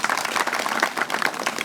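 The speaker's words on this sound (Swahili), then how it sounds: "Tumpigie Yesu makofi." A church congregation applauds for Jesus, with dense, steady clapping from many hands that holds at an even, lively level throughout, close and continuous, with no voices rising above it.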